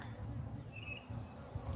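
Honeybees at an opened Layens hive during spring beekeeping give a steady, faint, low buzz that hums throughout, with no voices over it.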